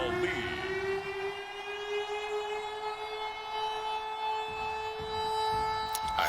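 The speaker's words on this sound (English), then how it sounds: "I hate that fucking siren" Stadium siren at NRG Stadium in Houston during a Madden 22 Pittsburgh versus Houston game, a loud sustained wail with a rising pitch that then holds steady for the whole stretch over crowd-like background noise.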